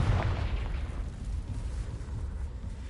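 Confringo fire spell blasting in the video game Hogwarts Legacy, a heavy rumbling explosion with a strong low boom that starts loud and fades gradually over a few seconds, with no voice.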